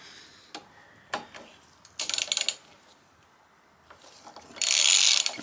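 A 5mm hex key loosening a brake caliper pin: a few sharp metallic clicks and ticks, then bursts of rapid ratchet-like clicking, close and fairly loud against a quiet background.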